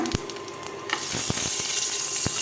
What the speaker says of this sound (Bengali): তেলের মধ্যে দিয়ে দিব জিরা তেজপাতা গরম মশলা